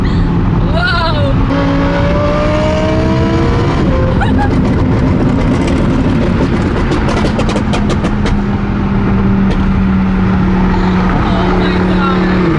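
A straight-piped, tuned Audi R8 engine roars under full acceleration, loud and close throughout, its pitch climbing and wavering through gear changes while voices exclaim over it.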